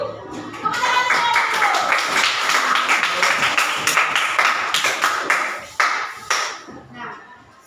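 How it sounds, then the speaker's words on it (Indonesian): A school class claps hands together in a burst of sharp, rapid claps that thin out into scattered taps near the end, close and lively, with voices mixed in. "Tepuk tangan."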